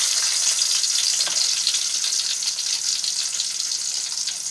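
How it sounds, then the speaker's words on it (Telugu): Chopped onions sizzling in hot oil in a home kitchen pan, a steady bright crackling hiss that holds evenly throughout with no talking. "ఇప్పుడైతే మనము ఉల్లిగడ్డలు వేసేసుకున్నాము. ఆయిల్ వేడెక్కింది."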